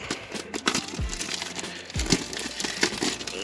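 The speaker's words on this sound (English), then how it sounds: "So let's quickly unwrap it." Plastic seal being torn and crinkled off a Benks car charger box, with irregular close crackles and a couple of sharp rips, no talking.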